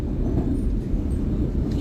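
A train pulls into a station with a steady, close, low rumble and no voices heard, as passengers get ready to board.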